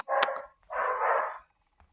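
A dog in the Granny horror video game gives two barks, the first with a quick double yip and the second longer, moderately loud and up close, with no talk over them.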